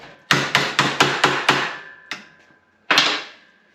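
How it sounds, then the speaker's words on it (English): A hammer strikes steel panel work on a vehicle chassis in a quick run of six sharp blows, then a lone hit and a final louder one, ringing briefly after each. "With a few hits of the hammer, we've nearly straightened it out."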